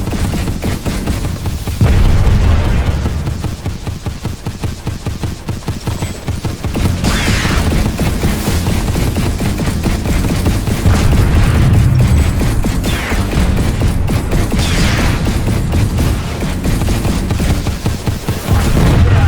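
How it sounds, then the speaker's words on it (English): Gunfire and rocket blasts crash through a video game battle, with dense rapid firing and repeated heavy booms layered on one another, loud and continuous throughout. "Shooting rockets in here."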